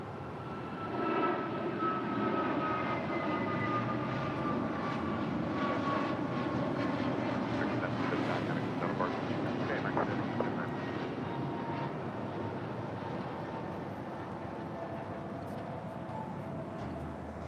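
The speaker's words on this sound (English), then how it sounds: "American Airlines flight 27 heading to Tokyo Haneda in the 787-8 Dreamliner with that tail to the east, quit signaling north side departure coming up" An American Airlines Boeing 787-8 Dreamliner departs LAX for Tokyo Haneda, its engines a sustained distant roar with droning tonal whines that swell early, hold through the middle and slowly ease off, no talking.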